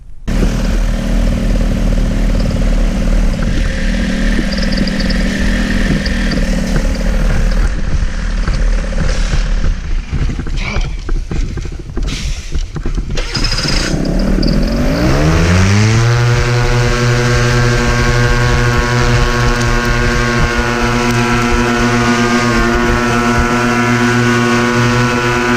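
Motor and propeller of a small flying machine spin up at takeoff in the Moab outdoors, a loud steady drone that rises in pitch and settles into a sustained whine, with wind noise throughout.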